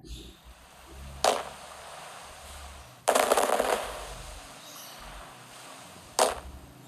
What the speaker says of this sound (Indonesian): Selamat malam, rasa acara kembang api akan dimulai.